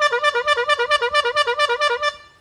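A squeeze-bulb horn of the kind used by pig castrators, a small rubber-bulb bicycle horn, honks in a quick steady series of about fifteen bright, nasal toots, close and loud with no talking.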